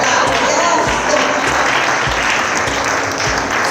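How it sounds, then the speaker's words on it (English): Audience at a leadership panel on power, economic control and sustainable leadership applauding the panelists: dense, loud, steady clapping from a crowd throughout. "A big applause for these amazing panelists."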